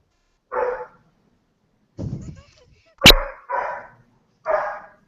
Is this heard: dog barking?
yes